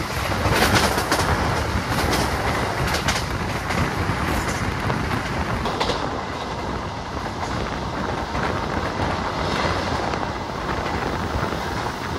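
Steady rumble and rattle inside a fast-moving train carriage, a continuous broadband roar with faint clicking, no voices.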